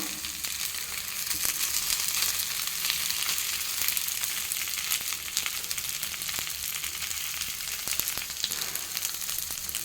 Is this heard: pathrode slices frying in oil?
yes